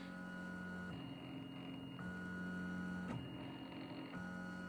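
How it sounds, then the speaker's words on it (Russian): A 3D printer printing a test figurine, its stepper motors whining in steady pitched tones that shift every second or so, a quiet mechanical hum with no talking. "Пробную фигурку печатаю."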